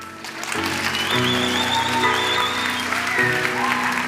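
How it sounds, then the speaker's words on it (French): Audience in a French stand-up comedy show applauding to vote on an option, steady crowd clapping throughout with some tonal music or voices layered underneath. "Applaudissez et on verra si c'est ça que vous voulez."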